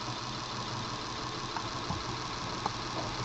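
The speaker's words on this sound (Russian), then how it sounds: "включаем блок питания. И у нас распределительный коллектор завращался." A Duyunov combined-winding electric motor's distribution commutator spins up after a bench power supply is switched on, giving a steady, even whirring hum with a few faint clicks and no talk.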